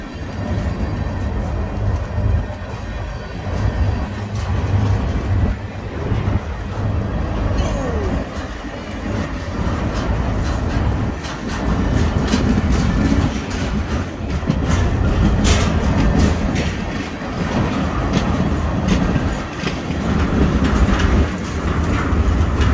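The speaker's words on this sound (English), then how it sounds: "This is a BNSF switching train. They're shoving back now. They're going back in reverse." A single BNSF EMD SD40-2 locomotive reverses a mixed manifest switching train in Galesburg, Illinois, its low diesel drone and rolling wheel noise continuing steadily, with faint clanks along the cars.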